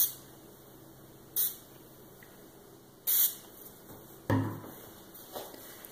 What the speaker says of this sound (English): We're going to give it another few sprays.